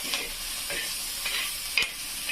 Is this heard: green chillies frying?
yes